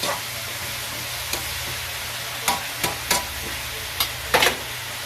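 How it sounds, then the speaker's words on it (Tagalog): Mixed vegetables sauté in a pan with a soft continuous sizzle, punctuated by several sharp clacks of stirring against the pan, close up and without talk. "Yan, lagay ko na lahat ng gulay."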